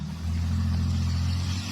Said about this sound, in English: here you're going to see our first test drive